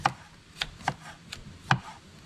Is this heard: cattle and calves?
no